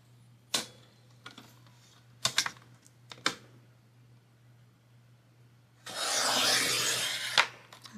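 A craft cutter slices off little paper strips, giving a few sharp, quiet snips and scrapes spaced apart, then a longer rasping swipe near the end, all close up in a quiet room with no talking.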